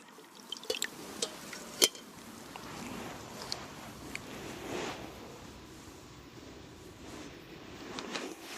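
Water dripping steadily through a DELTA water filter during a second filtration pass, meant to make the water drinkable. Soft, close drips and trickles run over a low continuous background, with a few sharper droplet ticks near the start.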